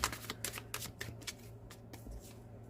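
Tarot cards shuffled in a quick series of crisp riffling bursts, close and fairly quiet, with no talking.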